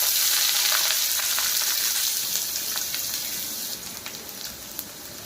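A large amount of onion frying in hot oil in a kadai for a home-style chicken curry, a loud continuous close sizzle that eases slightly toward the end, with a few light crackles.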